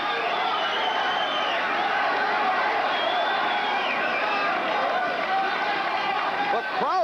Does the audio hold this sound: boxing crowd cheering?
yes